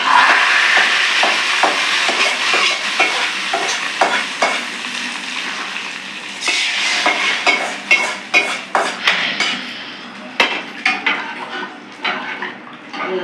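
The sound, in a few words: tempering poured into tomato rasam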